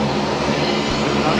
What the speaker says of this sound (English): There's the Link Airways Metro just pushing back from the bay